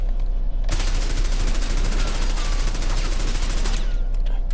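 Automatic gunfire from Call of Duty Black Ops 6 Zombies rattles in a rapid, sustained burst lasting several seconds, loud and close, starting after a brief quieter moment.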